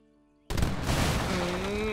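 Cannon fire from Age of Empires III Definitive Edition erupts suddenly after near silence, a loud booming blast followed by sustained rumbling battle noise and a rising tonal game sound.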